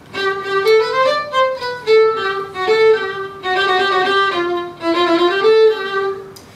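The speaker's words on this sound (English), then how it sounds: "This is what music in Peru would sound like." A melodic wind-like instrument plays a flowing Peruvian tune of connected notes, rising and falling, solo and fairly loud with no voices.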